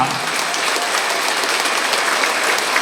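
An audience at a student felicitation ceremony claps steadily in a dense, even wash of applause that fills the room without pause, with a faint murmur of voices underneath.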